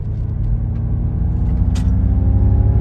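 A Ford Mach-E GT Performance Edition electric car drives on back roads with one-pedal braking switched on. It gives a steady, close low rumble of road and cabin noise that swells slightly, with no talking.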